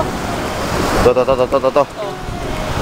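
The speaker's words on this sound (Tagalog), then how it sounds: "Medyo maalon lang. Kasi, lakas ng hangin tsaka malamig." Gusty wind roars into the microphone over the rush of rough sea surf, and a voice briefly speaks in the middle.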